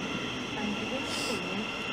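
A train departing Stevenage station on the East Coast Main Line rumbles steadily with a continuous mechanical drone and faint high whine, a brief hiss rising midway; no break in the noise.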